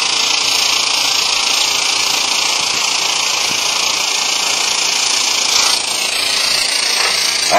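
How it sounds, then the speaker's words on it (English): A Sun Valley Ski Tools Portawelder melts weld rod into a ski base for repair, giving off a steady, loud, close-up hiss and hum that runs unbroken throughout with no one talking. "always using a cool piece of weld rod to put in the welder"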